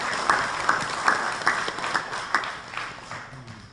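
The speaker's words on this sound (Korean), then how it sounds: "우리 모두에게 수고했다는 큰 박수 한번 보내주십시오" An audience at a Catholic academic symposium on East Asian society claps in a modest, uneven round of applause, with individual claps standing out at a steady rhythm, moderately close and fading slightly toward the end.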